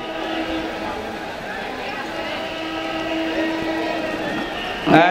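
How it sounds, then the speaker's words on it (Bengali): A train approaches with a continuous rolling rumble and sustained horn tones that hold steady and loud, ending in a sharp clatter. "সাবধানে থাকবেন, ট্রেন আসতেছে।"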